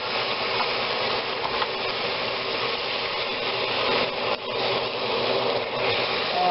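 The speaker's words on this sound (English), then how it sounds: "now we are going to add our can of petit diced tomatoes. Listen to it sizzle." Steady, dense sizzling of canned petite diced tomatoes frying in a hot pan for Provençal vegetable stew, loud and continuous with a brief dip near the end.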